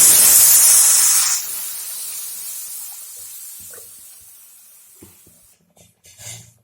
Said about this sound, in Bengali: আমি এখন কুলটির ডাল গুলিয়ে রেখেছি দিয়ে দিব।